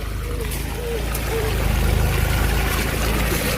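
Water pouring through a yard drain pipe in a demo comparing High Octane and EZ-Drain pipes, a steady rushing gush heard close, with talk over it.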